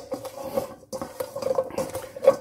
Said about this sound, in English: We're going to toss the asparagus in here